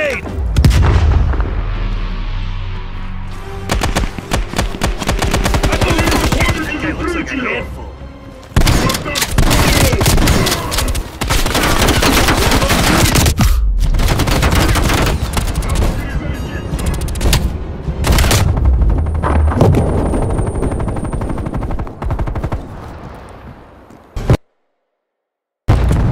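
Dense, loud barrage of gunfire and heavy booming blasts from a Call of Duty: Black Ops Cold War battle, with grenade explosions mixed into near-constant firing, a brief drop to silence near the end.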